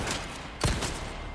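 Gunfire at an enemy in the Resident Evil 4 Remake video game, heard as one sharp burst of shots on a dense, busy game soundtrack.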